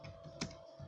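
Quiet keystrokes on a computer keyboard while entering HTML text, a few soft clicks with one sharper tap near the middle, alone and close.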